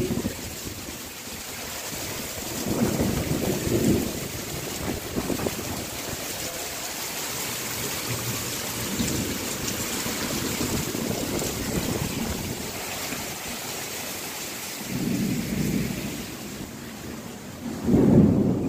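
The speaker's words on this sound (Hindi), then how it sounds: "बहुत तेज बारिश हो रहा है," Heavy monsoon-style rain pours down steadily while thunder rumbles in repeated low rolls, several swelling bursts rising out of the constant downpour, loud and close with no one speaking.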